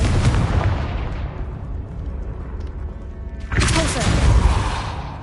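A Confringo fire spell blast in Hogwarts Legacy erupts with a loud, booming burst, fades into a rumbling tail, then a second heavy blast hits about three and a half seconds in.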